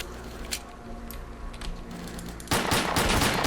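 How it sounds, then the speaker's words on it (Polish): Gunfire in STALKER: Clear Sky, shooting through leaves: scattered single shots at first, then a loud sustained burst of rapid automatic fire close by. "Czemu ja strzelam przez liście?"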